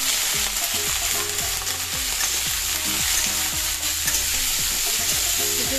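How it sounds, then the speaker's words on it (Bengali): Bay leaf, cumin and whole chili being tempered in hot oil, a steady close sizzle and crackle throughout, with a repeated rhythmic scraping from stirring in the pan. "চলো এটা আমাদের তেজপাতা ফোড়ন দিয়ে দিলাম, আর জিরে দিয়ে দিবো"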